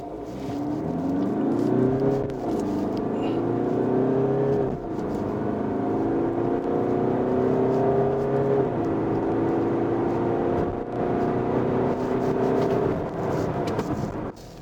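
A Peugeot 308 GT diesel in sport mode accelerating hard to 100 km/h, its engine droning loud and close from inside the cabin, pitch rising steadily through each gear before dipping at the shifts.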